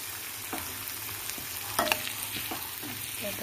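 Drumsticks (sojina) frying in a pan, a steady soft sizzle with a few brief scraping stir clicks and one louder clatter partway through, close and without any talk.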